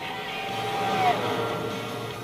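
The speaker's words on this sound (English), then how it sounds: "Love that exhaust note." A Lister Storm V12 race car in the Gran Turismo 4 video game, its exhaust giving a steady droning engine note with a brief rising whine, heard under a faint voice.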